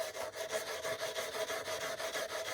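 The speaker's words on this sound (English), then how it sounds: "take the steel wool, like on this hood line" Steel wool rubbed steadily across the painted hood line of an Axial Scorpion Rock Ratt RC car body, wearing through black paint to an orange base coat; a continuous close, even scratchy hiss with slight rhythmic pulsing, no voices.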